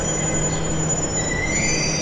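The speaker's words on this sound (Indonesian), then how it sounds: "Nah akhirnya kereta telah tiba." A Jakarta MRT train pulls into the station with a continuous loud rumble and a thin, rising wheel squeal, heard close and without voices.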